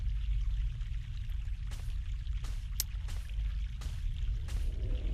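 Mountain water flowing steadily in The Longest Journey, a continuous low rushing wash with a few brief splashy ticks, heard alone without talk.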